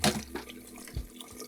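Running tap water splashes over a makeup brush being scrubbed to rinse out soap, a soft continuous close trickle with small splashy bursts.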